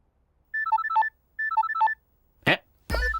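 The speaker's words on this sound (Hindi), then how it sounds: "सर आपका फोन बज रहा है।" A phone ringtone rings clearly twice in a repeating electronic melody, followed by a brief burst of noise and a louder clattering sound at the end.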